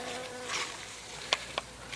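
Honeybee drones buzz around close by at a hive, a few loud passes swelling and fading over a soft background hum.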